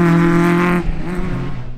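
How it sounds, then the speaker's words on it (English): A Peugeot Sport 208 Rally 4 car roars along a winter rally stage at Shackleton, the engine note loud and close with a high steady drone that drops away sharply as it passes, leaving a rough rumble. "it's the other Rally 4 car in 8th with Callum Graffin at the wheel"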